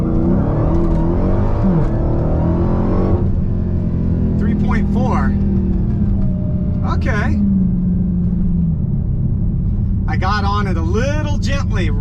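A Dodge Challenger Hellcat Redeye Super Stock launches gently off the line on a 0-60 run, its engine roaring loud and steady from inside the cabin, rising then shifting to a lower drone while someone talks over it.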